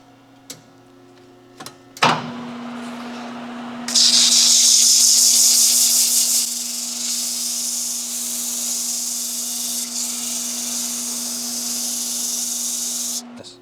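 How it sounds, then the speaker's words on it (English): 60 grit emery cloth rubs against a cast iron pump part spinning in a lathe, making a steady abrasive hiss that builds in after a clunk and runs continuously over the machine's low hum. "I'm just going to take some 60 grit emery cloth and we're just going to clean it up"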